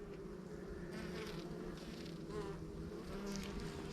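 Honeybees buzz steadily throughout a hive inspection on a hot heat-wave day, a dense, close, continuous hum with no voices.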